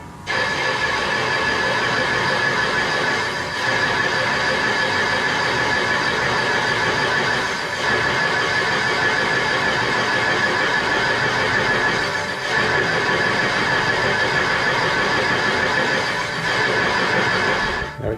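A fixed cutter machining valve seats in a small block Chrysler cylinder head gives a loud, steady metallic screech with a bright whine, continuous for the whole stretch with only slight dips.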